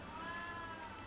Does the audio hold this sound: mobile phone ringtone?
no